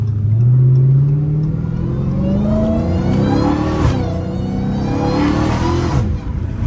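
A Dodge Challenger Hellcat Redeye drives past on a street, its engine revving loudly and rising in pitch as it passes close by, then fading, with no voices.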